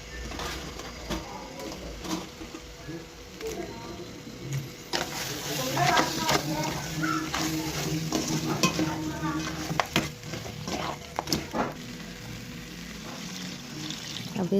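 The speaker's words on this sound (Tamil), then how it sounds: "வதக்கிட்டு நல்லா கழுவி வச்ச நண்டையும் போட்டு பரட்டி விடணும்." Washed crab pieces sautéed and stirred in ground masala paste for a crab gravy, a soft continuous sizzle with scraping stirs and clattering rising midway, moderately close and fairly quiet.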